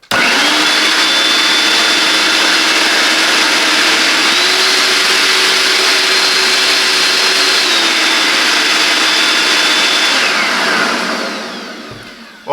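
A Parkside PPELB 1650 A1 electric axial leaf blower running on its first speed, a loud steady whooshing motor drone with a whining tone that shifts pitch briefly midway, then winds down and stops near the end.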